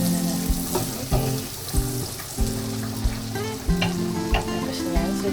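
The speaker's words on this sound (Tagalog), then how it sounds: "Haluin muna natin" Onions frying in a pan for a budget spaghetti sauce, stirred with a utensil, loud close sizzling with repeated knocks and scrapes roughly every half second, no one speaking.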